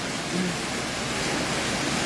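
Typhoon floodwater rushes into a house at the gate in Montalban, Rizal, as a steady, close, broadband roar of flowing water with no break.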